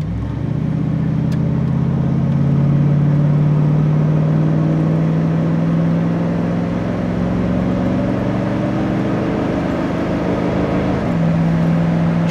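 A 1971 Ford Mustang convertible pulls away from a green light, its engine droning loud and close with a steadily rising hum as it accelerates, then dropping pitch at a gear shift near the end.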